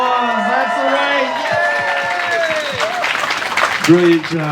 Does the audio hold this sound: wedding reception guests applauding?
yes